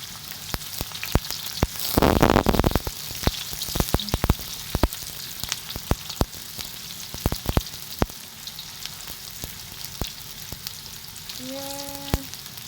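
Sliced onion hits hot oil already frying garlic in a pan for pancit bihon, a loud sizzle bursting then settling into steady crackling with scattered spatula taps.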